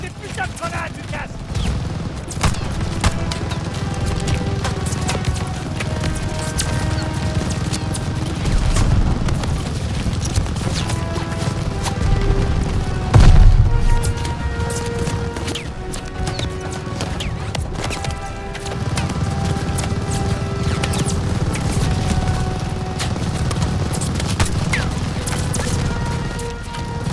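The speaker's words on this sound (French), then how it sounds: "Balance-lui des putains de grenades, Lucas!" Grenade blasts and gunfire from the Call of Duty Vanguard video game form a dense, continuous battle roar with a sharp, loud explosion midway and tonal score layered over the din.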